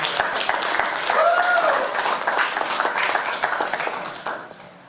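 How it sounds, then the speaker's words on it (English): Audience applause and clapping at a church music night at a United Methodist chapel, a steady wash of many hands clapping for about five seconds, fading slightly toward the end, with some talk mixed in. "Give Joe Dan a big round of applause there."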